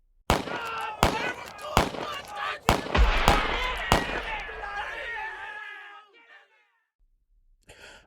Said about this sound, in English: the screams of the wounded, gunfire, and the cracking of the gate finally breaking under your assault